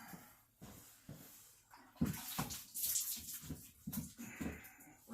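Water rinsing cleaner off a boat gun part in a shop, a gurgling, splashing stream that starts softly and grows louder and steadier partway through.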